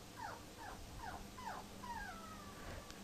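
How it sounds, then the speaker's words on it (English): A dog indoors gives a series of five high, yelping barks in a steady rhythm, moderately distant and fairly quiet, over a low room hum with no talking. "Dog, if you don't shut up."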